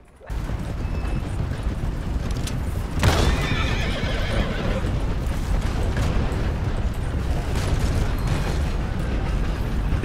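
Horses in Red Dead Redemption 2 neigh and whinny while hooves clip-clop steadily, with a sharp burst partway through and loud game noise running throughout.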